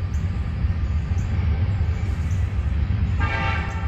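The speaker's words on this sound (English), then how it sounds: "I can't see the train. Man, I can hear it." A train rolls past out of sight beyond a field near a river, its low rumble steady and loud throughout, and a horn blast rings out toward the end.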